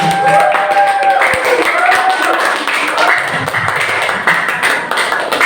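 An audience at a teachers' dissemination session applauds a presenter, with a steady round of clapping close and loud, joined by a few cheers and tones, continuing for several seconds.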